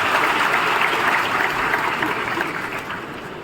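A crowd at a Madhya Pradesh Foundation Day celebration gives loud applause for a singer, thick continuous clapping that stays strong throughout with a faint murmur beneath.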